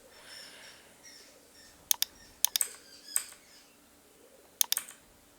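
Typing on a computer keyboard while adding a singer and album name to text: a few sharp, close key clicks in small clusters over quiet room tone, with no talking.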